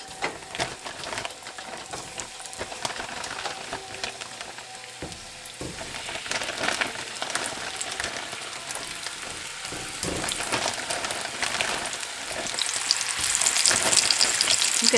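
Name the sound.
stew ingredients browning and sizzling in a hot pan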